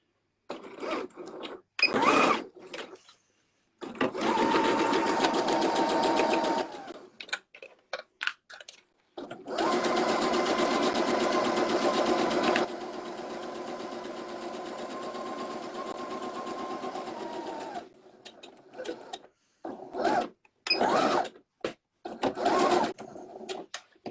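A sewing machine stitching a seam on a fabric cuddle kit, starting with short back-and-forth bursts, then long steady runs of fast whirring stitches, with brief pauses and quick stop-start bursts at the end, close by.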